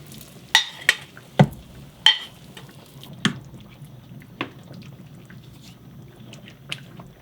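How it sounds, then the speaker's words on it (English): Cooked hamburger meat being stirred into marinara sauce in a pan, with a few sharp spoon scrapes and clacks against the pan over a soft, steady simmering sizzle, no talking. "we'll add the hamburger to the marinara sauce"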